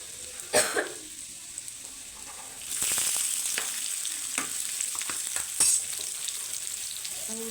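Garlic and cumin crackle in a pan, then chopped onion drops in and the sizzle swells louder and steadier, with a few scraping stirs and a brief cough-like burst early on.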